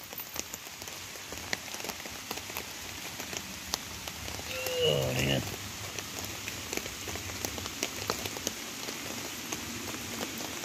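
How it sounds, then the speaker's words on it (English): Continuous patter of rain drumming on a tarp overhead at a campsite during a rainstorm, dense and steady throughout, with a faint brief murmur partway through. "Raining, if you can hear it hitting the tarps."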